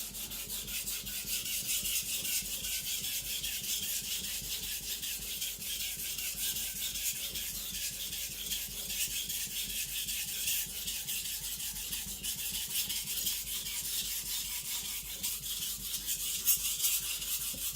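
Aogami steel Eden Kanso gyuto being thinned on a sharpening stone, a continuous wet rhythmic scraping of steel on stone, close and steady throughout with no talk.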